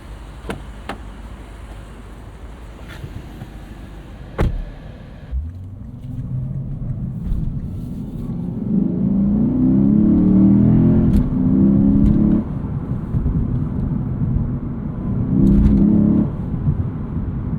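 A 2024 Lexus IS 500 sport sedan with a 472 hp V8 on the road, starting with quiet cabin hum and clicks, then swelling into a deep, loud engine roar under acceleration that eases and surges again.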